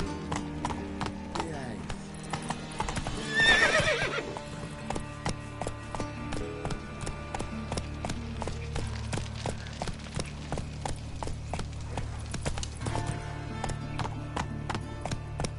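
Roach, the horse from the Witcher 3 game, gallops in a steady, rapid clip-clop of hooves that runs the whole way under a continuous music bed, with a brief louder swell early on.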